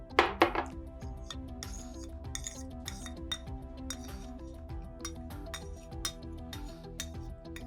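Dishes and cutlery clink repeatedly as a cooled homemade karakkaya cream for dark circles is moved from the pan into a bowl. The sharp, close taps and scrapes come in an irregular rhythm, louder at the start, with no talking.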